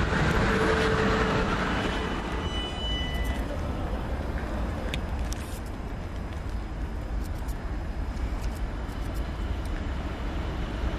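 Class 159 diesel unit on the Exeter to Waterloo service at Basingstoke, passing as a loud broadband rumble that eases after a few seconds, with faint high squeaks and clicks over the steady roar.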